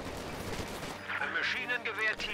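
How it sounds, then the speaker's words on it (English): An MG42 machine gun firing in the World War II strategy game Company of Heroes 2, heard as rapid bursts in a dense battle mix with other gunfire and a voice speaking over it. "Lipton is over here, going to help him out with an MG42"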